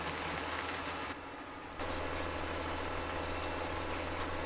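Tractor engine in Farming Simulator 17 drones loudly and steadily, a dense, constant running rumble that briefly drops in level near the second mark before resuming at full strength.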